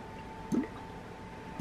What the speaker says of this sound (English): if you tip it, the water makes a noise